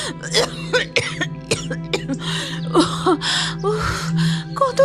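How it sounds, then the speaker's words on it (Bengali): Repeated coughing fits from a woman with a lingering illness, harsh and close, coming in bursts with gasps and throat-clearing between them over a steady low hum. "কাশিটা তো মোটেই সারছে না"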